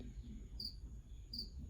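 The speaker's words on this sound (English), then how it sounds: "If you hear like a chirping sound, it's the crickets I have for my gecko." Crickets kept as feed for a pet gecko chirp indoors, two short bright chirps about a second apart, faint against a quiet room.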